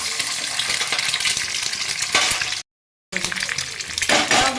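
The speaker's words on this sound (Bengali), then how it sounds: "কড়াতে তেল দিয়ে দিয়েছি আমি দুটো ডিমকে তেলের মধ্যে ফাটিয়ে দিয়ে দিচ্ছি" Two eggs cracked into hot oil in a wok fry with a loud, steady sizzle and crackle, which breaks off briefly midway and then resumes just as strongly.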